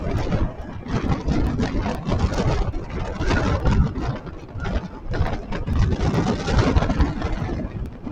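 Trucks passing on a busy road, a continuous rushing roar of heavy engines and tyres with wind buffeting against the microphone, loud and close, no talk.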